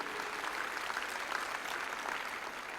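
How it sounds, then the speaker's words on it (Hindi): Audience at a residential gurukul school event claps loudly for their daughters, a continuous, even roar of many hands heard from a little distance throughout. "एक बार जोरदार तालियां बजाओ अपनी बेटियों के लिए भी।"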